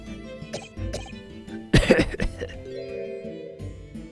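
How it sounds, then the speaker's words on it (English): A single harsh cough bursts out near the middle, close and loud, over a quiet musical backdrop with soft tones from The Great Ace Attorney Chronicles video game. "You seem to be coughing up some"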